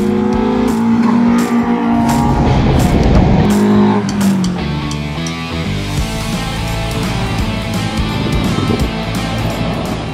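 Two blue Toyota KE70 cars launching in a drag race, loud engines revving hard and accelerating together, a sustained roar with rising gear-change pitch sweeps, no talking.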